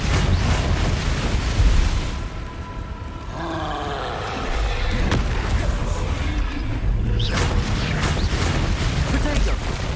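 Confringo fire-blast spell cast in Hogwarts Legacy, bursting into booming, crackling explosions over busy combat noise for the whole stretch, with a dip in the middle before heavy rumbling blasts return.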